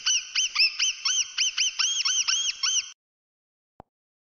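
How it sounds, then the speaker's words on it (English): A mouse squeaks in a rapid series of about a dozen short, high, chirping calls over three seconds, loud and close with no talk, then silence. "the mouse."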